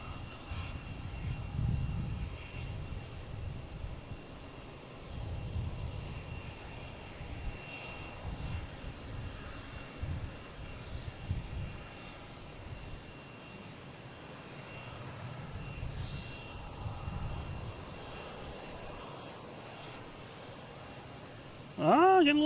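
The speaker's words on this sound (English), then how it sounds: "we have a JetBlue 1534. Coming in from San Francisco," A JetBlue Airbus A321neo arriving from San Francisco comes in to land at Boston Logan, its engines a low, steady rumble held at moderate distance with slow swells throughout and a brief sharper sound at the very end.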